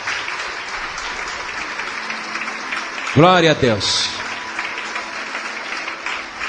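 A church congregation keeps applauding during a worship service, with clapping running underneath while a voice briefly exclaims in the middle.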